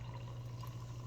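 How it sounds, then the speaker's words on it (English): Liquid Death sparkling water poured over a mango drink in a glass, a steady close fizzing and pouring hiss with a low hum underneath, continuous through the short moment. "we just want to kind of pour over it, getting that fizz right up to the top"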